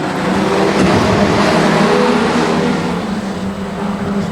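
A pack of street stock race cars roars away together from the start on a damp track, a dense, loud engine rumble that stays steady and close throughout.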